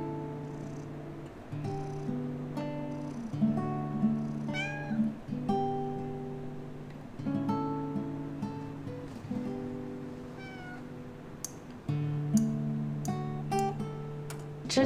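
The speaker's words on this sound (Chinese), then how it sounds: "哪来的小猫呀" A small kitten, rescued from the roadside with a paw injured in a rat trap, meows repeatedly in short rising cries over about fifteen seconds. Steady background music plays underneath.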